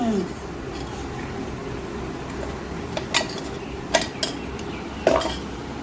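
Potato powder is mixed by hand in a kitchen bowl: a soft, steady rustle with a few sharper clinks of the bowl and utensils near the end, quiet and close.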